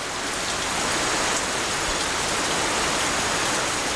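Heavy rain falling in the Nyungwe montane cloud forest, a dense, steady hiss of drops on foliage, loud and unbroken, with no talk.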